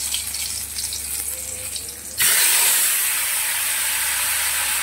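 Nigella seeds and green chillies drop into very hot oil in a pan, setting off a loud, sudden, steady hiss of sizzling that holds through the end after a quieter kitchen hum.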